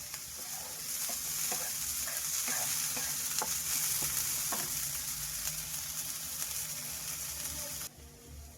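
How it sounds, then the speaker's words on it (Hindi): Onions fry steadily in a pan until lightly pink, a continuous close sizzle with occasional stirring scrapes, ending abruptly. "हमारा प्याज हल्का सा भून चुका है।"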